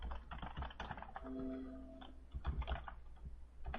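Keys tapped in short, uneven bursts on a computer keyboard while entering data into a form, close and fairly quiet, with a faint hum underneath and no voices.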